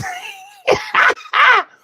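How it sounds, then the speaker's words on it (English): Three quick coughing bursts in a row, close and fairly loud, following a soft murmur of background voice. "coughing."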